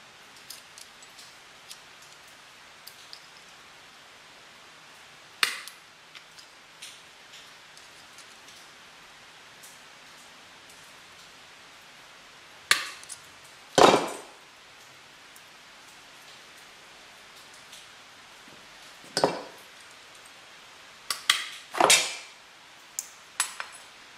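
Plastic windshield trim clips being cut on a marked line, a few sharp separate snips and clicks spread over a quiet background, fairly close.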